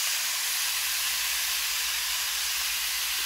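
Bamboo shoots fry in plenty of cooking oil, giving a steady, bright, even sizzling hiss that holds without pause throughout, with no talking.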